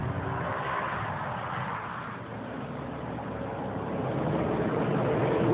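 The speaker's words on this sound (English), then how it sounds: "blasting up and down through the gears" A BMW M5 E60 driven hard through its gears gives a low, continuous engine roar heard from the cabin. It dips slightly midway and then swells louder toward the end, with no one speaking.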